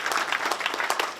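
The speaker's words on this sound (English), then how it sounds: "I think we need to give you another round of applause for the efforts you put in to make this happen" A crowd applauds at an airport event where the governor announces an airline partnership. The clapping is brief and moderately loud, with distinct individual claps rising and falling through a short burst.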